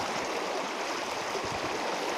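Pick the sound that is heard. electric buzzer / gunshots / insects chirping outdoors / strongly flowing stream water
strongly flowing stream water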